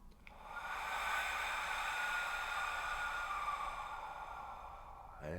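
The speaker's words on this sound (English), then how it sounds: "Breathe in." A slow, deep inhalation drawn in close and steady, a soft breathy rush that swells over the first second and holds for about five seconds before easing off, with no talking.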